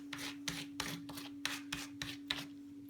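A hand rubs texture paste onto a surface in about eight quick, rhythmic scraping strokes, close and soft, over a faint steady electrical hum.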